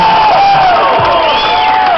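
A crowd cheers and whoops loudly at a bass fishing tournament on the Delaware River, with sustained shouting filling the whole moment.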